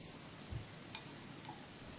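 A computer mouse gives a single sharp click while selecting a menu item, quiet and close, with faint softer handling noises before and after.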